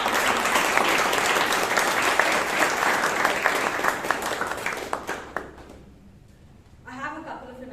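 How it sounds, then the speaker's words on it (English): An audience at a Toastmasters meeting in Bangalore applauds in a thick, sustained burst of clapping that thins and fades out, after which a voice starts to speak. "Let's give a huge round of applause to all the role takers"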